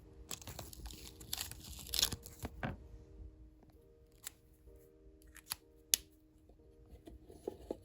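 Decorative paper tape is cut with scissors in a quiet room, giving a series of close, crisp snips and crinkly paper rustles, irregular in rhythm with pauses between cuts, alongside a faint steady background hum.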